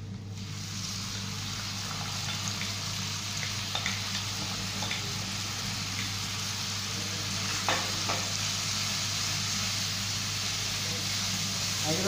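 Baby eels (angulas) frying in a pan over controlled heat, giving a steady soft sizzle with occasional light stirring clicks, close and even throughout.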